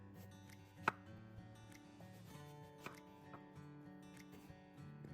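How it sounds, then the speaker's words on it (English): A kitchen knife chops eggplant into large cubes on a cutting board. A few soft, scattered knocks are heard, one sharper than the rest, over quiet background music. "I'm just gonna chop this into larger cubes"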